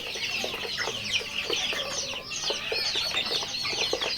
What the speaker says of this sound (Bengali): এটা হচ্ছে লেয়ার দুইটা লেয়ার মুরগি বাচ্চা বয়স এক মাস